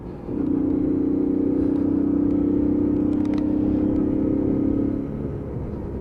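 A Lexmoto Aspire 50cc moped engine drones steadily and loudly while riding at its 30 mph top speed during running-in, holding a constant tone for about five seconds before easing off slightly.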